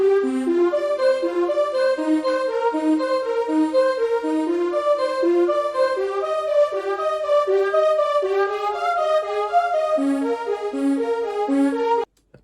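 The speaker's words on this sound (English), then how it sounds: "for one of the melodies, we used augmented voices out of V collection 11" Synth melody from the Augmented Voices instrument in V Collection 11, with its morph knob automated, in a lo-fi track: a steady stream of bright, layered notes that shift in tone, playing alone at moderate loudness before stopping abruptly.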